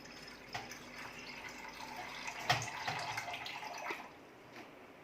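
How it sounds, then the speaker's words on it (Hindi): Millet cooking water is poured from a pot into a kadai, making a faint, soft splashing trickle with a few small drips and clinks, heard close and quiet, with no talking. "एक कढ़ाई लेंगे, उसमें इसका पानी पहले निकाल देंगे।"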